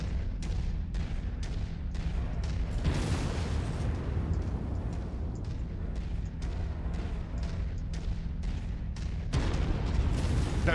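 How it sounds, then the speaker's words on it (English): A big mech cannon in MechWarrior 5 fires with heavy booming blasts over constant loud rumbling battle noise, with two strong bursts standing out. "That big cannon makes so much noise."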